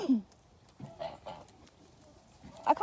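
Geese in a field give a few brief honking calls, loudest at the very start and again near the end, with quieter scattered calls between them.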